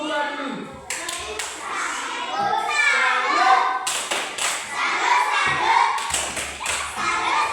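Children clap in a classroom during a science lesson, short bursts of hand claps and thumps mixed with lively kids' voices and an adult talking over them.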